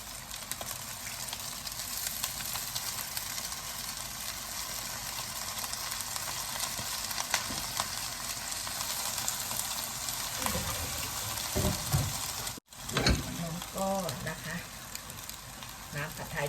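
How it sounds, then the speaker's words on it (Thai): Noodles for old-style pad thai with dried shrimp sizzle steadily in a hot pan, with scraping and clattering stir strokes that grow busier near the end after a brief cut. The sound is fairly quiet. "ใส่เส้นลงไปเลยนะคะทุกคน"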